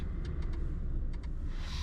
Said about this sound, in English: You get this sound, which actually notifies you that it's ready to drive.